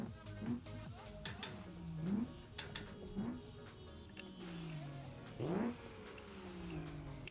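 A General Lee Charger fitted with a Cummins engine driving in BeamNG.drive, with an engine note that rises and falls through repeated revving sweeps and gear changes, steady and fairly close throughout with no talking.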